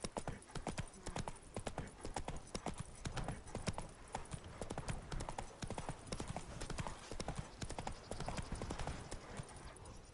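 Roach the horse trots in The Witcher 3: Wild Hunt, Blood and Wine, with dense, rapid clip-clopping hooves that run continuously and close, while a voice speaks faintly over them.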